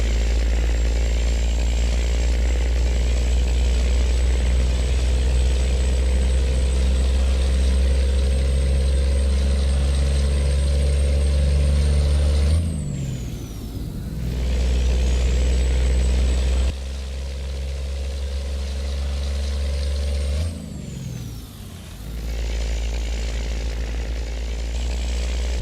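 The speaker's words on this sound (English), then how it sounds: "The exhaust sound is quite nice." Peterbilt 388 wrecker truck cruising between Montana and Idaho, its exhaust a loud, steady deep drone with a high whine, broken twice by short drops in power as if shifting or lifting off.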